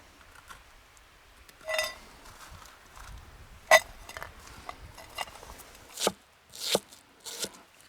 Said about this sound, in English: The bread, the onion and the bacon, just cut it all in small pieces.